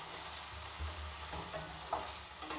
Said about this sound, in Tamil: நறுக்கி வச்சுருக்கிற தக்காளி ஆட் பண்ணிக்கலாம்.